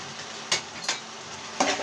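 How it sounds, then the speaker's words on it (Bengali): Chopped tomatoes dropped into masala frying in a pan with a steady soft sizzle and a few brief clattering stirs, quiet and close. "এখন আমি কেটে রাখা টমেটোগুলো দিয়ে দিচ্ছি"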